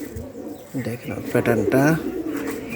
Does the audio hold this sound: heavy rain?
no